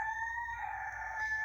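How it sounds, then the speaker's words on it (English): A rooster crows once at nightfall, a clear, strained, sustained call heard at moderate distance over faint background noise. "it is literally like almost nightfall, and these roosters won't shut the fuck up"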